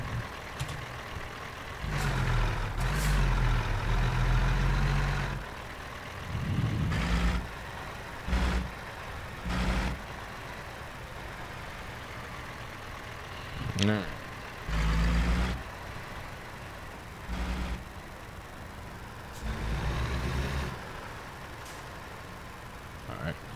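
A truck engine in the video game American Truck Simulator drones and revs while driving out of Boise, Idaho, a steady mechanical hum beneath someone talking in bursts throughout.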